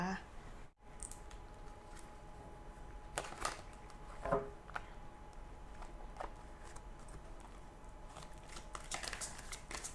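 Tarot cards being shuffled for a reading make faint papery riffles and light taps in a quiet room, with a voice speaking softly at times.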